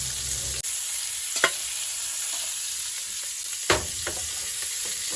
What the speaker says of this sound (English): I'm gonna let a little pan sear form on it